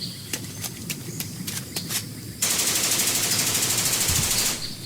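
M16 rifle fire from the Vietnam War video game Jungle Patrol: Combat Actions, first a few spaced single shots, then a sustained rapid burst of fully automatic fire, loud and close, with no one talking.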